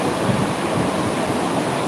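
Sea surf surging close to shore where water has flooded up onto the road, a steady, loud broadband wash of waves that fills the whole stretch without pause.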